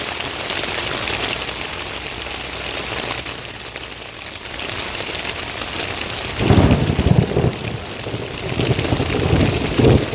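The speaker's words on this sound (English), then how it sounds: "The storm's going to be directly overhead right now." A thunderstorm in the woods, with steady heavy rain pattering throughout and low thunder rumbling loudly overhead, swelling in bursts during the second half.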